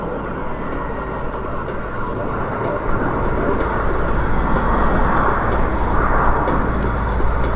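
A loud, steady roar of a CP-140 Aurora patrol aircraft's engines at an airshow fills the air, swelling slightly as it goes on, with faint chatter beneath.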